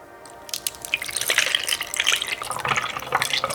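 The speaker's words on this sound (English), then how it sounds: "Milk it up." Milk poured steadily into a glass beside a snack spread, a liquid gurgle and splash that swells and continues for a few seconds with no talk.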